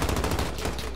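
MP5 submachine gun fire in a video game, a loud rapid burst of shots running close and continuous.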